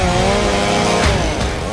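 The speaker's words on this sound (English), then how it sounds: "Cutting down large trees with a handheld chainsaw is truly a powerful but dangerous" A handheld chainsaw cuts down a large tree, its engine roaring loud and steady throughout with a slight drop in pitch as it bites into the wood.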